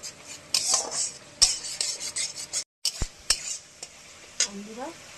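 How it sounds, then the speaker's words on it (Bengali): Spice paste being stirred and fried in oil in a pan for a fish curry, with repeated scraping strokes of a spatula over a soft sizzle and brief pauses, close and moderately loud. "মশলাটাকে আমি এবার কষাতে থাকবো।"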